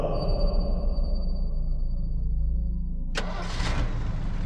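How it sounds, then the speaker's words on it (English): A truck's engine runs at a low, steady rumble, then a sharp burst of higher noise and rising engine sound suggests it pulling away, fairly loud and close. "The truck's leaving."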